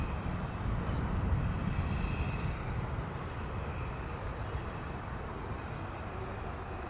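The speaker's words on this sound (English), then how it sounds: "It's an A321 American Airlines flight 2853." An American Airlines Airbus A321 lined up on the runway at DFW Airport produces a low, steady engine rumble, distant and fairly faint, holding evenly with a slight swell early on.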